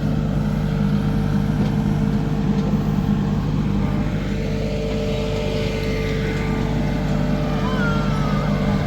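A truck tows a trailer toward a sawmill, heard from on board as a loud, steady engine drone with a deep rumble and wind noise, continuous throughout.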